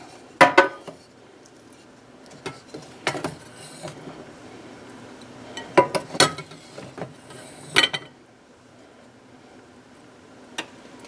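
Baked chicken and sauteed vegetables are served onto a plate, with scattered clinks and taps of utensils against dishes and occasional quiet scraping between them.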